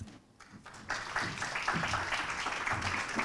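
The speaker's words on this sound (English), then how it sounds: "A round of applause" An audience at a halal travel summit in Singapore breaks into applause. It starts after a quiet moment and then holds steady, with a crowd of hands clapping at moderate distance.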